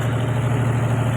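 A tractor engine idling, a steady low throbbing hum at close range, unbroken and alone.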